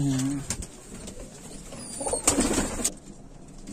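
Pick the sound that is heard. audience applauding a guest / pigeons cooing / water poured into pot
pigeons cooing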